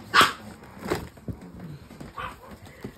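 A dog gives a few sharp, close barks with a brief whimpering note between them, separated by short quiet gaps.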